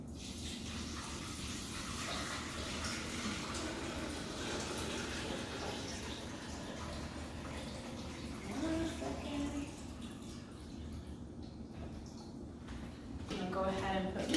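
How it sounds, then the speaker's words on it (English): Steady water pouring into a coffee maker fills the scene continuously, with a person talking over it. "now I'm just going to pour it in a coffee maker"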